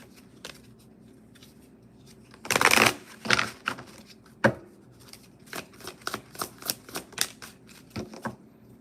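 A tarot deck shuffled by hand, starting with a loud riffling burst and then a run of sharp, evenly spaced card taps and slaps, close-up with no voices.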